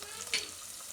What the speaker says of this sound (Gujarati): તો હળદર નાખી દઈશું